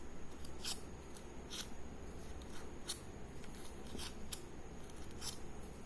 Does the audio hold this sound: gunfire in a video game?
no